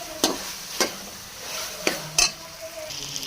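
Sliced capsicum stir-fried with marinated chicken in a pan for macaroni, with a faint sizzle broken by several sharp spatula clinks and scrapes against the metal at irregular intervals.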